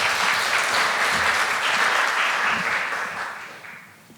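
Steady, fairly loud audience applause welcoming a lecturer at a corporate governance seminar, dense clapping that holds evenly and then tapers off toward the end without any talk.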